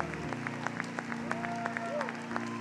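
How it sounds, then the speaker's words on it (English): A church congregation applauds during a service, dense steady clapping filling the room, with some voices and cheering mixed in and a sustained musical tone underneath. "Let's clap for all them. Let's clap."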